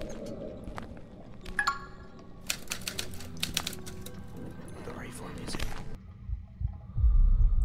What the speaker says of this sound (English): That should be a typewriter there.